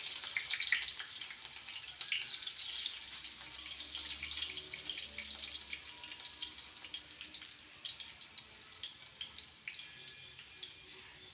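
Onions frying in a pan for palak paneer, giving a steady close sizzle and crackle that stays fairly even throughout with no talking.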